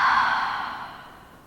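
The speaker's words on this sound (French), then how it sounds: "Expirez par la bouche." A single breath exhaled through the mouth in a yoga session, a soft airy breath sound that fades gradually over about a second and a half, close and alone with no talking.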